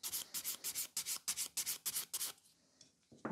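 Gel-coated fingernail being buffed and smoothed with a file, a quick series of about ten regular rasping strokes, close and fairly quiet, then a short pause and a final scrape.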